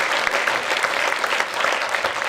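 At the close of an awards ceremony in Aveyron, an audience gives sustained, thick applause, fairly loud and even throughout, with no talking over it.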